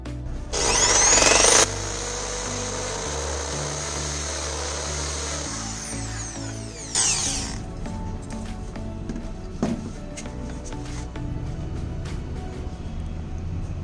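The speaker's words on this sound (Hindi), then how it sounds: "इस तरह से हमें ड्रिल मशीन अंदर की तरफ डालनी है" A power drill bores into a PVC pipe in two short loud bursts of whirring, separated by quieter handling, scraping and knocking of the plastic.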